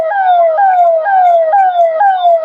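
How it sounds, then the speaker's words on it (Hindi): An emergency siren wails during a mock air raid drill in Doranda, Ranchi, sounding loud and close with a repeating sweep that falls in pitch and then jumps back up about twice per second. "ये सायरन बज रहा है"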